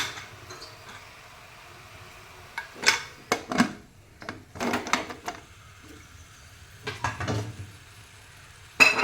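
A lid is set onto a cooking pot while beef kappa biriyani is being made, giving a few scattered metallic clanks and clatters in a quiet kitchen, with a sharp knock at the end.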